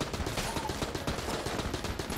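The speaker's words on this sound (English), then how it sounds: "Tommy gun!" Rapid automatic gunfire from a Tommy gun in the video game Enter the Gungeon, a continuous dense rattle of shots running steadily throughout at even loudness.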